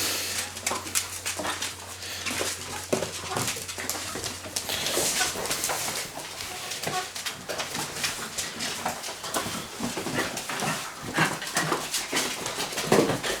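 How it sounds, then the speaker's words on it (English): Labrador puppies, 43 days old, playing together, a busy stream of scuffling, small yips and thin whimpers close up, continuous and lively for over ten seconds. "Hope you're enjoying watching our pups play."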